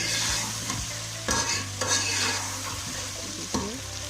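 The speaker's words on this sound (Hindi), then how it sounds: "चिकन फ्राई हो चुका है अच्छी तरह। 5 मिनट हमने और भी फ्राई करना है।" Chicken pieces frying and being stirred in a pan, a steady sizzle under repeated scraping strokes of the spoon, close and continuous with no voices.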